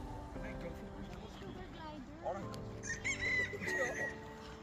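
Chickens, likely roosters, at a kangaroo farm, with clucks and calls rising toward a crow-like cry near the end, mixed with people talking nearby.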